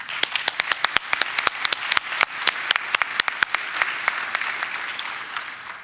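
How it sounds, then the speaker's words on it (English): Audience applause for a transportation technology panel at a conference general session, steady and full with sharp individual claps standing out throughout, no talking. "Let's give our great panel another round of applause."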